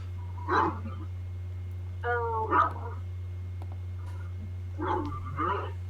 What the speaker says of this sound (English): Dog noises.